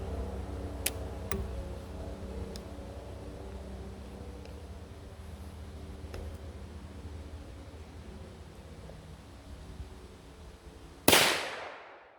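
A Liberty Civil Defense .45 Colt round fires through a chronograph at an outdoor range: one sharp, loud report bursts out near the end after a long stretch of quiet background hiss with a few faint ticks.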